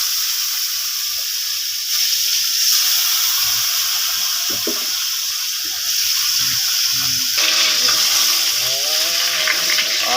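Potatoes frying in hot oil in a home kitchen, a steady loud sizzle and hiss running throughout with slight swells in intensity and brief faint clatter.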